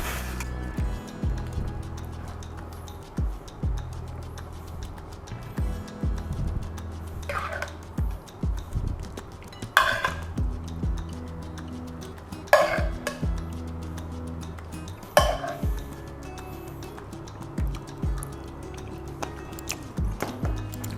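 Dishes clink as freshly cooked chicken roast is moved into a bowl, with several bright metallic clanks separated by a few seconds amid softer scraping and handling noises.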